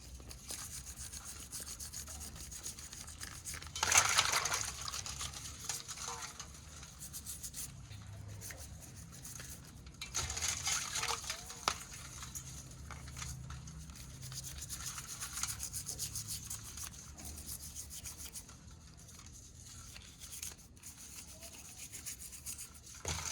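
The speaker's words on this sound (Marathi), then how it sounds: "तो पूर्ण ब्रश घ्यायचा ब्रशने पूर्ण साफ करायचा आहे" A brush scrubs mud off a freshwater crab for a Konkani curry. The bristles make a continuous soft rubbing, faint and close, with a few brief louder strokes.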